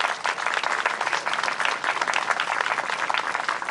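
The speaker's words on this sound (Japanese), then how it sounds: "大きな大きな拍手をお送りください" A large crowd gives sustained, dense applause after a band's performance at EDION Stadium Hiroshima, even and loud throughout.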